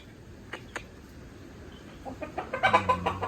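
Fighting chickens at a game farm cluck close by: a few isolated calls early on, then a quickening run of short, rising clucks over low background noise.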